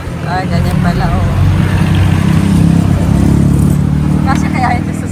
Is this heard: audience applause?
no